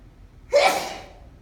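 A single sharp sneeze bursts out in a quiet room, loud and brief, with a short breathy intake before it.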